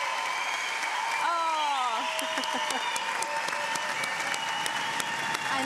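A TV talent-show audience applauds a band in a continuous, steady wash of clapping, while a voice briefly exclaims and sings over the clapping.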